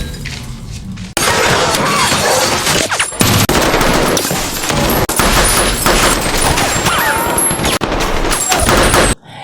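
Rapid bursts of gunfire in a tense film ambush, loud and dense, mixed with crashing and shattering impacts that run almost continuously for several seconds.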